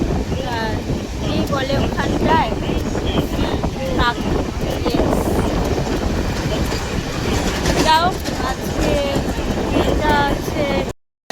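A loud, continuous rumble of a Namkhana-bound train at a busy railway platform, with steady low mechanical noise, some wind buffeting and squealing metallic tones, while people talk throughout and it cuts off abruptly at the end.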